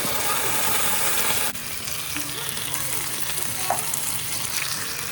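Baked beans sizzling and frying in a pan for an English breakfast, a steady hiss that drops slightly after a stir, close and continuous with no voices.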